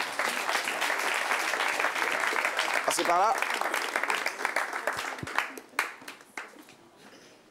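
A studio audience applauds in a dense, sustained burst under a talk show host's voice, the clapping thinning out and fading toward the end as a brief chirping tone and speech take over.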